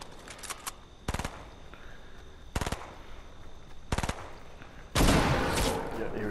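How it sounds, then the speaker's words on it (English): Gunfire in a squad-based video game: short sharp bursts of automatic fire repeat at roughly one-second intervals, followed by a louder, sustained close burst at the end. "Where's this gun shooting from?"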